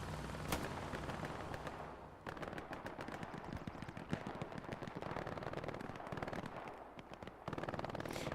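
MG42 machine gun firing in Hell Let Loose, rapid bursts of sharp cracks with brief pauses between volleys amid distant battlefield gunfire, fairly faint overall and without talk.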